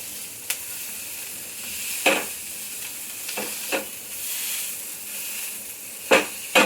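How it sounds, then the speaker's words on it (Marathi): Green chillies pan-roasting in a little oil, a soft steady sizzle broken by several sharp louder spatters and stirring scrapes, close by. "थोडं थोडं तेल टाकून अशा भाजून घ्यायच्या."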